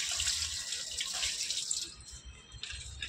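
Water pours and splashes steadily onto potted garden plants such as hibiscus and tulsi at dusk, a continuous gushing stream that briefly cuts off and then resumes.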